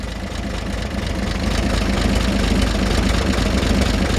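A 1948 Chevrolet with a 216 six-cylinder engine and solid lifters idles steadily close by, with a dense, even low rumble and a fast diesel-like ticking clatter that continues without pause.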